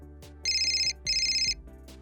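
A phone rings twice on the line after a number is dialed, each ring a loud, even electronic trill with a short pause between the two, heard alone with no talk.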